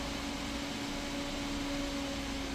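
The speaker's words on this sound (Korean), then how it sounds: "이 정도 기본 선풍기 소리를 줄여서 사용하면은" An electric fan whirs steadily with a low tonal hum, a constant airy drone that never changes.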